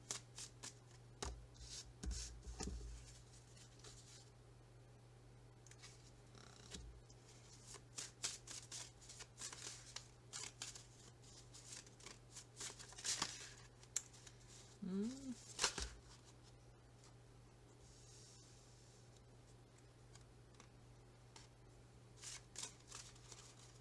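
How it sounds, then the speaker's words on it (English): A deck of tarot cards is shuffled and spread by hand in repeated bursts of riffling and soft slapping, close and fairly quiet over a low steady hum. "You can skip to when I will have got all the cards, because I won't start talking until I've spread them all."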